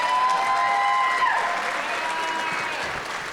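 A lecture hall audience bursts into sustained applause after an Angela Davis talk, dense, steady clapping that fades slightly toward the end, with faint voices mixed in.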